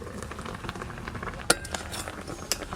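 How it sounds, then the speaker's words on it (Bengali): A metal lid clinks twice against a pot of steamed hilsa belly pieces on the stove, two sharp close metallic knocks over a quiet kitchen background. "দেখি একবার ঢাকনাটা তুলে জল আছে নাকি ভিতরে"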